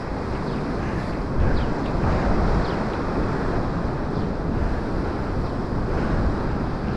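A strong gale roars along the Paphos seafront with crashing waves, a loud dense rush of wind buffeting the microphone without a break; no voices are heard.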